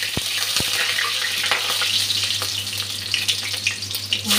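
Green chili and nigella seeds sizzle in hot oil in a frying pan, a loud, close, continuous crackle with scattered pops and a faint low hum beneath.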